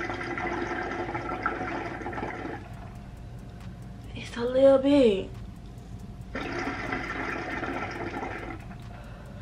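Water gurgles and bubbles in a QIQICI hookah base as it is drawn on, in two longer bursts with a short spoken remark between them.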